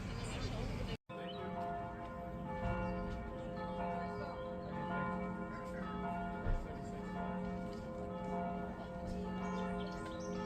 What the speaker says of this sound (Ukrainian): такі дзвони